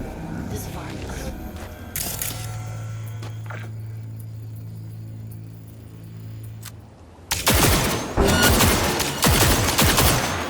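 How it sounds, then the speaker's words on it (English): Gunfire in Cyberpunk 2077 erupts in dense, loud bursts after a stretch of mechanical whirring and a low sustained hum, with a short sharp burst near the start as well. "Heard shots."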